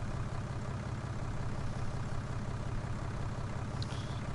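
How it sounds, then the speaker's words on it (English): Custom engine sound of a tractor in Farming Simulator 19, a steady low idling rumble held evenly throughout at moderate level, with no talk over it. "Custom engine sound"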